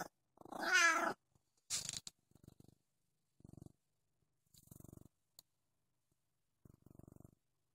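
A voice imitates a cat with a long, drawn-out meow, followed by a few short, softer low-pitched sounds spaced apart with quiet gaps between them.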